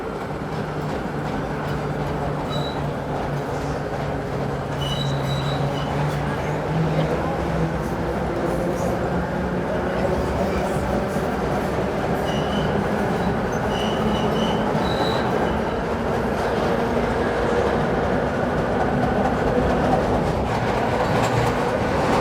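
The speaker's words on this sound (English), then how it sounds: "Just enjoying the sound of the old subway cars." Old subway cars roll steadily along the track in a continuous loud rumble, with brief high wheel squeals and faint clattering rising now and then over the drone.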